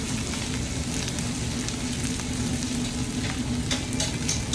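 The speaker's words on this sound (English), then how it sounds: "Let's mix this up nicely." Food frying in a pan with hing, giving a steady close sizzle with light stirring scrapes over a constant crackling bed, no talk.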